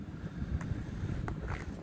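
Strong gusting wind buffets the microphone during an outdoor test flight of a long-endurance copter, a low, rumbling roar that swells and dips unevenly, with no talking.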